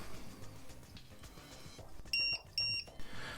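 Several short, high electronic beeps in quick pairs near the end from a battery charger for a WLtoys 144001 2S battery, sharp and clear over a quiet background hum.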